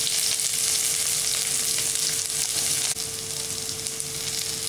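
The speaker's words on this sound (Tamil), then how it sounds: "நல்லா வதங்கி வந்துடுச்சு." Onion, tamarind and coconut sizzle steadily in a hot pan for a tomato dal chutney, a loud continuous frying hiss with faint stirring and no voices.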